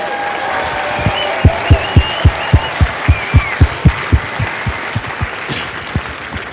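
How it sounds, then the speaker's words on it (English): A graduation crowd at Marine Corps Recruit Depot San Diego applauds the drill instructors with steady, rhythmic claps that keep an even beat for several seconds over a broad wash of crowd noise. "Would you join me in a final round of applause for the Marines who make Marines, the drill instructors?"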